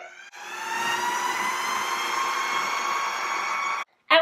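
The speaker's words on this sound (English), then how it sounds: "we are pulsing this bad boy on high until we have a nice sauce." A blender whirs on high, pulsing jerk chicken sauce in one sustained, close, loud run that cuts off abruptly, followed by a brief restart.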